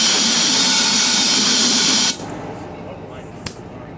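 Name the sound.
compressed air blowing out Ryobi BP42 blower carburetor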